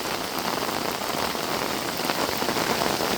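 Steady morning rain pouring down over farmland, a dense continuous hiss of drops hitting surfaces nearby, with no voices.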